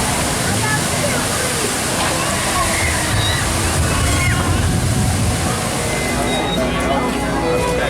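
Loud, continuous rushing water at the Splash Mountain log flume ride in Magic Kingdom's Frontierland, a steady splashing roar filling the whole stretch, with voices faintly present underneath.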